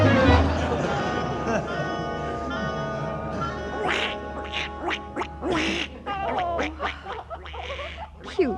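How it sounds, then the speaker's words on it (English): A duck quacks repeatedly in short, bright bursts, close and fairly loud, mixed with people talking and a steady low hum in an old comedy radio show. "Cute duck."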